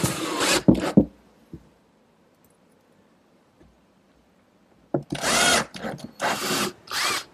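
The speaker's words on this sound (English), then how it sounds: "Now I'll secure these with some screws from the inside" A power drill drives screws from the inside into cabinet fronts of a workshop hutch: two short whirring bursts, a long quiet gap with faint handling clicks, then several louder close bursts of drilling.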